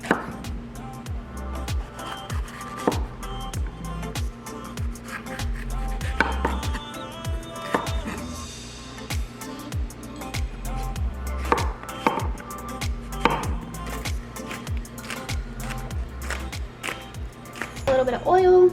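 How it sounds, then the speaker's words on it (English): Knife chopping zucchini and red bell pepper on a cutting board, a steady run of sharp close taps across the whole stretch with a low background hum. "All right, let's get to chopping."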